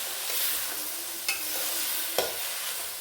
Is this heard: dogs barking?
no